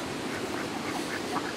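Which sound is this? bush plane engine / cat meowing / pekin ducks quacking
pekin ducks quacking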